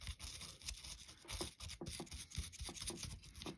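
Old dried grease is scrubbed off fishing reel parts from a Daiwa Strikeforce reel, giving quiet, irregular brushing and rubbing strokes, faint and close, with no talking.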